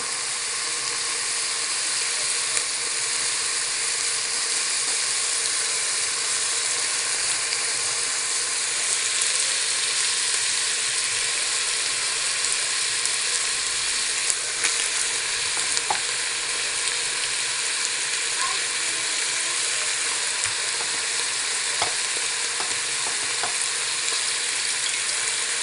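Bread and parsley stuffing for turkey or capon being stirred in a hot pan, with a loud, steady sizzle and frying hiss throughout and faint scrapes of the spoon.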